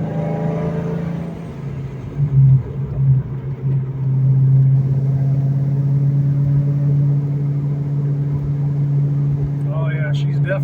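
A 2004 Ford Mustang Mach 1 V8 drones steadily at highway speed, with a deep rumble that swells briefly and then holds even, heard from inside the car while someone talks over it.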